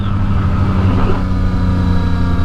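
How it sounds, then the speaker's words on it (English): Motor vehicle engines drone close by on a road during a long motorcycle ride, a steady mid-pitched hum with a slight rise as a car passes. "Cars."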